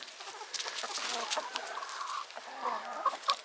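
A backyard chicken clucks and murmurs nearby in short, uneven bursts, with a few sharper squawks toward the end and no talk over it.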